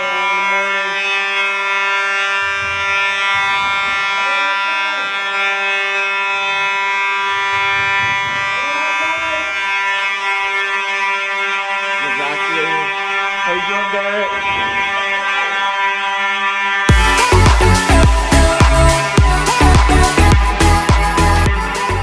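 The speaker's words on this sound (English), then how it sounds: "Fire alarm." A school fire alarm blares loud and continuous in the final few seconds after a stretch of talking, harsh and pulsing, drowning out everything around it.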